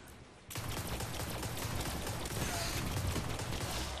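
Rapid automatic gunfire from a weapon in the Destiny video game on PS4, a dense, loud burst starting abruptly after a quiet half second and continuing steadily to the end.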